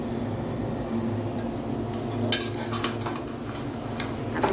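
Jaggery modak filling is stirred in a pan on a gas stove, with a quiet scraping background. Faint, scattered clinks of the utensil against the pan come in the second half.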